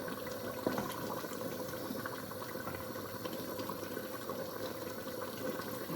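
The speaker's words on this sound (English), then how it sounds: "Now add more water anyway." More water goes into a pot of boiling soup with meat, giving a continuous watery gurgle and bubbling at close range, steady throughout and without speech.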